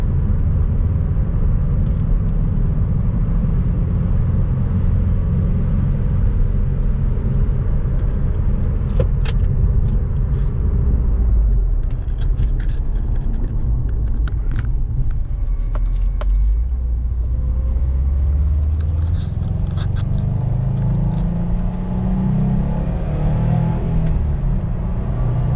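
A 2018 Subaru Impreza STI engine rumbles steadily from inside the cabin, a loud continuous low drone rising and falling as the car accelerates, with faint rattles and jingling throughout.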